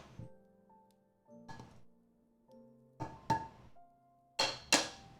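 Toasted ingredients tipped back into a mortar and pestle while cooking fried chicken, a series of distinct hollow thunks and clacks, sparse at first then louder paired knocks near the end, with faint tonal background between.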